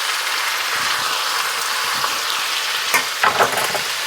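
Sausage, potatoes and green beans sizzle steadily in a hot pan as lemon juice deglazes it, a bright continuous frying hiss with a couple of louder bursts near the end.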